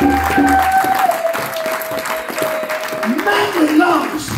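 A church congregation applauding during a French-language sermon, steady dense clapping with a sustained sung or shouted tone over it and voices mixed in throughout.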